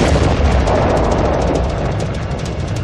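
Titan 4A rocket carrying a spy satellite explodes, a loud sustained roaring blast with dense low rumble and crackling filling the whole stretch, no voices.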